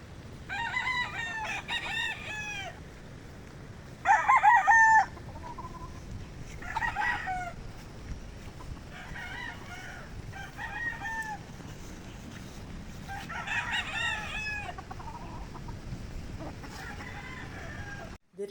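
Roosters and hens at a game farm crow repeatedly in turns, some crows close and loud, others farther off, over a constant soft rushing background.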